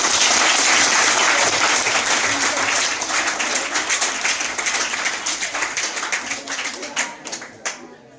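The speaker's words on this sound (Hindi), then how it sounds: "एक बार जोरदार तालियों के साथ" Audience applause welcoming a guest speaker at a school cyber-crime awareness talk: loud, dense clapping from a large crowd, holding steady then thinning into scattered claps toward the end.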